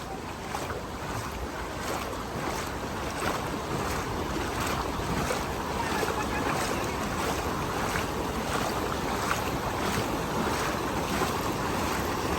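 Heavy floodwater after rain rushing steadily in a continuous broadband roar, with wind buffeting the microphone and no talk.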